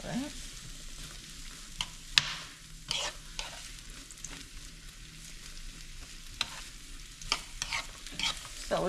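Red, orange, green and yellow sweet peppers and garlic fry in a pan with a constant sizzle, broken by sharp clacks and scrapes as they are stirred.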